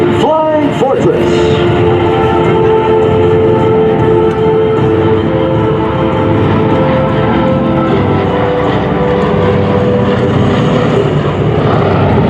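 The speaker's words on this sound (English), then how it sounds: "B-17 Flying Fortress." A B-17 Flying Fortress bomber passes over an air show at Joint Base Andrews, with a steady, loud drone of radial engines and propellers throughout. An announcer talks over it.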